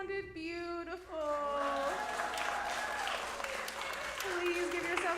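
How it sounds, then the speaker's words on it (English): A congregation at a Sunday service applauds itself after singing, steady clapping that swells in after a second and carries on under sustained sung or piano-like tones and some voices. "Please give yourselves a round of applause"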